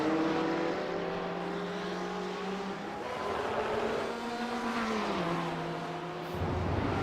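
Race car engines from a sim-racing league, a BMW and a Porsche among them, at Road Atlanta, several cars droning and revving together with shifting pitch as they run close, loud and continuous throughout.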